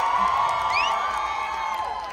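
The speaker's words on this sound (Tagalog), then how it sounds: "Malaking palakpak!" Live crowd cheering and whooping at a surprise sing-along show, a steady loud roar of voices with rising shouts over continuous applause-like noise.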